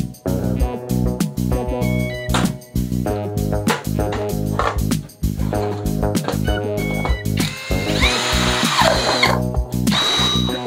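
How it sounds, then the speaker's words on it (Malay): Power drill driving screws to mount a Tapo TC65 CCTV camera, loud whirring bursts that rise and stop repeatedly, close to the microphone, with brief pauses and a rattling, higher-pitched stretch near the end. "Kita ikat skru."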